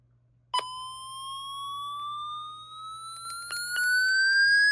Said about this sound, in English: I also forgot to siren test this thing.